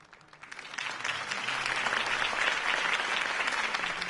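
Applause from a video game crowd at a campaign speech in The Walking Dead-style Batman Telltale Series swells from a quiet start into sustained clapping from a sizeable crowd, steady and moderately loud.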